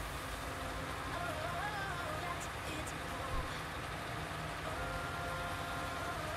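Steady rain in the farming video game Farming Simulator 19, a constant broadband hiss filling the whole stretch alongside a low engine drone, with talk over it.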